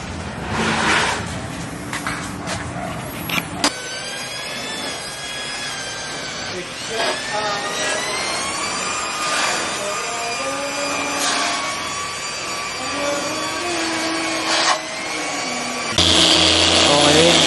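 A polishing machine buffs the paint on a Mitsubishi Montero, giving a loud continuous whine whose pitch rises and falls as pressure changes, with brief thumps and a sharper burst at the end.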